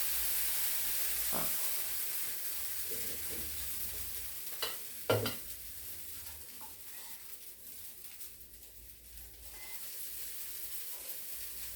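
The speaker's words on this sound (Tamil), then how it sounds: "அப்படியே பொறுமையாக 2 பக்கமும் வேக வச்சு எடுக்கணும்." Kudiravali millet oothappam cooks on a hot pan with a steady, soft sizzle and hiss, broken by a few brief scraping clicks and one sharper clatter near the middle. No one speaks.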